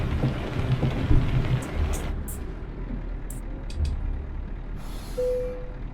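Truck air brakes in Euro Truck Simulator 2 on a drive across Denmark, with several sharp pneumatic hisses and releases over a steady engine rumble, ending in a brief tonal beep.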